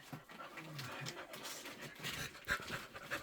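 Excited dogs greeting people arriving home pant quickly and softly nearby, with light rustling and faint movement around them.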